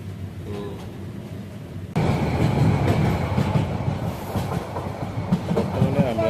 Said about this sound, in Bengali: আমাদের ট্রেনটি রয়েছে পটিয়াতে